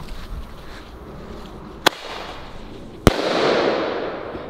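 Thunderking firecrackers bang twice in sharp isolated reports about a second apart, near and loud over a steady hiss of outdoor background noise.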